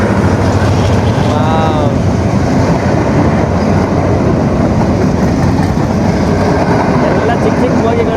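A train runs along a strip of land between the sea and a river in Sri Lanka, its steady rumble and clatter filling the whole stretch. A faint whistle-like tone rises briefly near the start.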